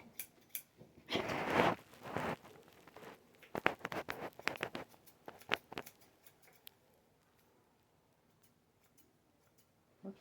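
Scissors trim a pet's fur around the nose in close, quiet snips that come in quick clusters, then thin out toward the end.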